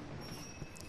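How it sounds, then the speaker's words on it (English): A train arriving in Kingdom Hearts 2 rumbles with a dense, steady rolling roar and thin, high squealing tones from the wheels, loud and continuous for about a second. "The train will be arriving shortly."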